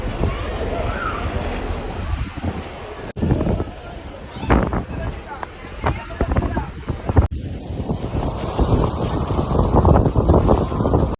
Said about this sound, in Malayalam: ഭയങ്കര കാറ്റാണ്, നല്ല ആട്ടമുണ്ട്.